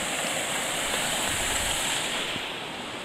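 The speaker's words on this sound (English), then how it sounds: "Coming out to a bridge over a brook." A brook flows beneath a trail bridge on Mount Moosilauke, a constant close, broadband rush of running water with no voices.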